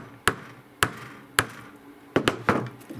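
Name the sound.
framing hammer tapping wooden loom parts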